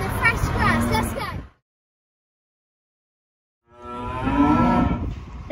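Cattle mooing loudly in a farm shed, long drawn-out lowing calls from several animals, close by, with a quiet gap in the middle before the calls resume.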